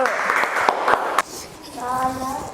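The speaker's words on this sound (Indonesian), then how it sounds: "Tepuk tangan untuk kelompok 1." A classroom of students claps for a group after a presentation, a short burst of applause that stops abruptly, followed by a voice speaking.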